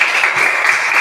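Applause in a classroom, a dense continuous patter of clapping hands filling the whole short moment at close range.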